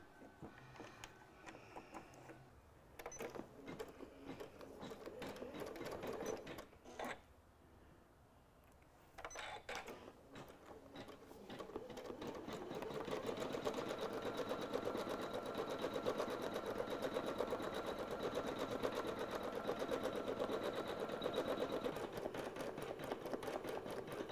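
A home embroidery sewing machine stitches a loose, pine-needle-style tree applique on a Christmas ornament. A steady mechanical whirr runs close and continuous, with a short pause midway before it resumes and carries on without talk.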